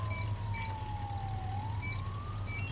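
An ambulance siren wails in a steady, slowly gliding tone over a low engine rumble on a street, loud and continuous with no talking.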